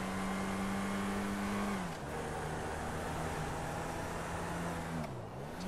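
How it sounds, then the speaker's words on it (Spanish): A car accelerating in Grand Theft Auto V, its engine note climbing steadily, dropping briefly at a gear change and then rising again, with a second dip near the end. The engine is continuous and fairly loud, with no talk. "Acelero otra vez."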